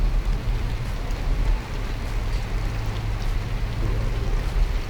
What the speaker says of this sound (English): With the rain pounding down on the van roof, conversation gets a bit difficult.